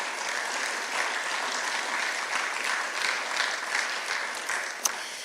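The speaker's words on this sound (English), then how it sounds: "Everyone, a nice round of applause for our top underwriter category." Sustained, even clapping fills a banquet room at a university business scholarship breakfast as the crowd honors top underwriters, with one louder clap or knock near the end.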